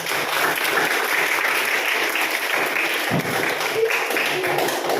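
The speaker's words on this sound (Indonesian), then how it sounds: "Yuk, tepuk tangan buat kalian." Classroom of students clapping together, dense steady applause at close range lasting throughout, with faint voices mixed in.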